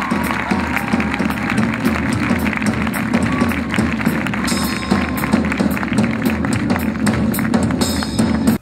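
An audience claps steadily and loudly for a performer named Valentin after a hoop duo act, a dense, continuous patter of many hands that holds throughout and breaks off abruptly at the end.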